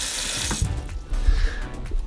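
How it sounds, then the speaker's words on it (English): Kitchen faucet runs water for washing dishes, a loud hissing stream at first that cuts off, followed by low clunks and handling noises close by. "I gotta do the dishes now, so let's do the dishes."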